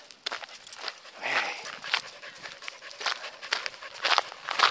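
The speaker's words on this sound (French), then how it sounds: "T'es un beau chien!" Close by, a dog pants hard after a run, with rapid, rhythmic bursts of breath that rise and fall in loudness throughout.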